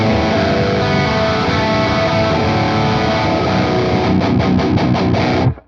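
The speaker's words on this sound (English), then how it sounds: "this DV Mark Marigold distortion. And with all of that loaded up at the stock settings, this is what it sounds like" A heavily distorted electric guitar plays through a DV Mark Marigold amp model in Overloud TH-U at stock settings: a dense, loud sustained chord wall, then several quick chugged hits before cutting off abruptly, with no talk.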